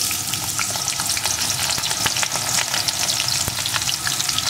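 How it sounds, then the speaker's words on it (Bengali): Potato pieces frying in oil in a pan that has just fried pakoda fritters, giving a loud, dense, crackling sizzle with sharp pops scattered throughout and no talking. "এখন আলুগুলোকে লাল লাল করে ভেজে নেব।"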